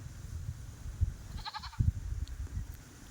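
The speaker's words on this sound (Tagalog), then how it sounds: "Mga kambing." Goats on a goat farm bleat, one clear wavering bleat rising above a steady low rumble of outdoor noise and shuffling, with a fainter call shortly after.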